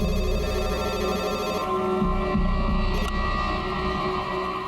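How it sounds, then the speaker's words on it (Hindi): A mobile phone left on charge rings indoors, a steady electronic ringtone with sustained tonal layers continuing loud and unbroken for several seconds. "हाँ, वो मेरा फोन है।"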